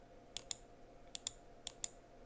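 Computer mouse clicks on a search result link come as three quick pairs of crisp, faint double clicks, close and dry, against quiet room tone with no speech.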